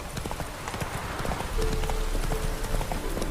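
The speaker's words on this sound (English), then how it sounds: "Spooking my horse." Horse hooves clip-clop at a steady, even gait in The Witcher 3: The Wild Hunt, close and clear over soft background game ambience.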